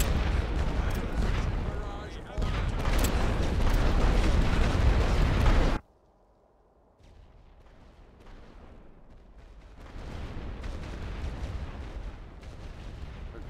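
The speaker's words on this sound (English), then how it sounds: "Load for area barrage" Artillery barrage in a Great War western front video game, loud sustained rumbling booms that cut off abruptly, then a quieter stretch of distant rolling fire building again.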